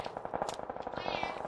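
Rapid bursts of gunfire in a shooting video game with an M24 sniper rifle, a quick string of sharp cracks over about a second and a half, close and moderately loud.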